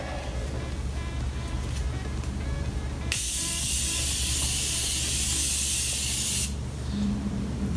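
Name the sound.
Morphe makeup setting spray being sprayed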